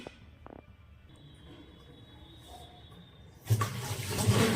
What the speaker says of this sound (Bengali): দেখি আজকে কতটা জল বেরোবে গরম।